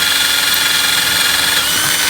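A power drill runs steadily with a high whine, boring through the center of a rusty 3/16 steel brake line fitting with a 3/16 bit, close and unbroken.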